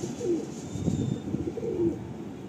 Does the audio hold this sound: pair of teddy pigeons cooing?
yes